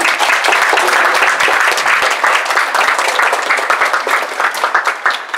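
Sustained applause from a crowd at an equestrian show jumping competition, dense and loud clapping throughout with a slight fade near the end.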